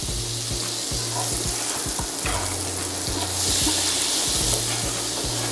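Bacon grease and butter sizzle loudly in a pan for smothered pork chops, a constant close frying hiss with low, rhythmic scraping or bubbling bursts underneath.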